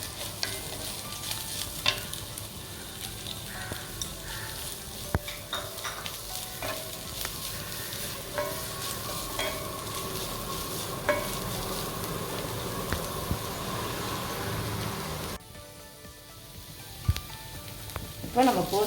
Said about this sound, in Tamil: இப்போ வெங்காயம் இஞ்சி பூண்டு பேஸ்ட்டாக நல்லா வதங்கிச்சு.